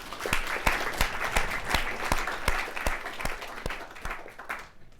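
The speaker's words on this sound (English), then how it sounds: "So let's give a round of applause to our speakers." Audience applause for the speakers at a debate on the cost of higher education, a steady round of clapping from a room of people that carries on for several seconds and begins to thin toward the end.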